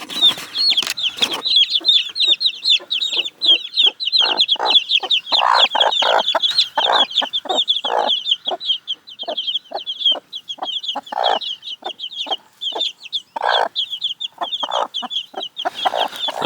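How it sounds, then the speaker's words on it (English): Chicks and chickens clucking in a pen of six birds on a homestead, a dense run of close, repeated clucks and high peeps continuing steadily throughout with no talking. "Surprise chicks."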